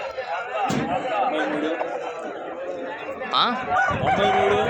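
A rooster crows twice at a busy poultry market in Nallapadu, Guntur, Andhra Pradesh, its drawn-out calls rising over constant nearby chatter and someone talking.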